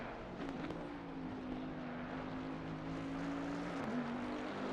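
Race car engine from a GT racing video game, a Rockefeller Racing Bentley lapping Imola, holding a steady faint drone with a slight pitch dip near the end.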